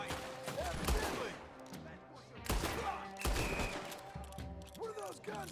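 Gunfire in Red Dead Redemption 2 during a shootout, with several sharp gunshot bursts and scattered shots over distant battle noise; voices briefly speak between the shots.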